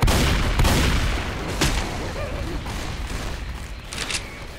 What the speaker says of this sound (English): Watch out! pipe bomb out!